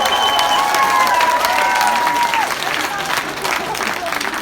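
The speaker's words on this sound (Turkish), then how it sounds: "Давайте им поаплодируем и скажем «Добро пожаловать!»" A seminar audience applauds to welcome guests, a dense crowd clapping with some cheering, loud and sustained, while a voice talks over it and a tone rings out across the first half.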